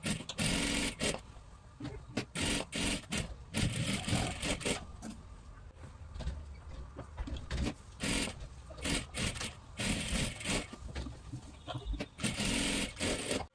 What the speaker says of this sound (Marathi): पूर्ण डबल शिलाई मारून घ्यायची आहे